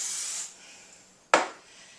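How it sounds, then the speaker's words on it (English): Non-stick cooking spray hisses into a spring-form pan, one soft spray fading out before a second, sharper burst; quiet and close with no talk. "We're going to spray that with a little non-cooking spray."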